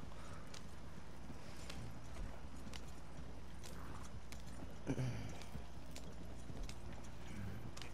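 Horses in Red Dead Redemption 2 make faint, steady hoofbeats in an even clip-clop rhythm over a low rumbling background, with one slightly louder thump midway.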